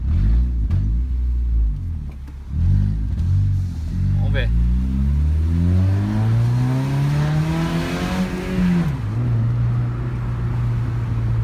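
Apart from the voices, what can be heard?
Honda Civic car engine revving with exhaust tip removed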